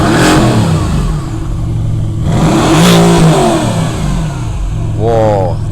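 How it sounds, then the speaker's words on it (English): A Mercedes-Benz AMG GTR engine cold-starting and revving, a loud close throaty roar that rises and falls through several blips, with someone talking over it. "We're about to start this car so that you hear the sound it makes."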